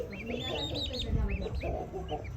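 On a cold, breezy day a hen clucks softly while sheltering her chicks, with short, rising chirping calls close by over a low background murmur.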